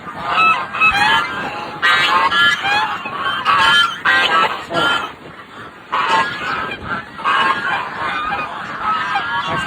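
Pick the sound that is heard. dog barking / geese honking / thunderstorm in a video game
geese honking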